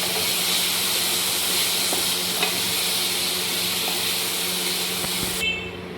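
Water poured into a hot pan of ridge gourd and potato sets off a loud, steady sizzle and hiss of steam that runs unbroken until it cuts off near the end.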